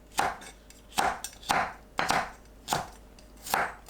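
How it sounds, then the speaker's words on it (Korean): A kitchen knife cuts the white part of green onion, cheongyang chili and red chili into 1 cm rounds, seven crisp, evenly spaced chops on a cutting board, close and clear with no talking. "파 흰 부분과 청양고추, 홍고추는 1cm 길이로 둥글게 썰어줍니다."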